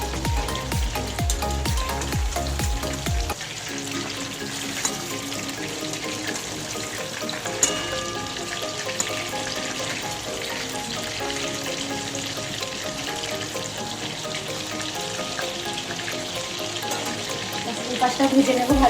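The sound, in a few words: pakoras frying in oil in a pan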